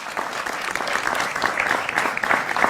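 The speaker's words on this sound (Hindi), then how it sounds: "जोरदार तालियों से स्वागत करिए रैपिड फायर राउंड का" Steady, dense applause from a studio audience at a Hindi TV political debate show, loud and continuous throughout without a break.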